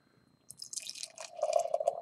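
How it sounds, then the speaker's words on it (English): Hella Stoked IPA, an Altamont and Henhouse collaboration beer, poured into a glass, starting after a brief silence as a soft close gurgle that builds into a steady frothy fill over two seconds. "Pour into the glass."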